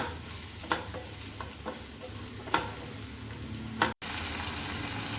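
A spiced, salted sweet potato mixture frying in a pan, with a steady hiss of sizzling under a few sharp scrapes and taps of a spoon stirring, close and moderately loud, no voices.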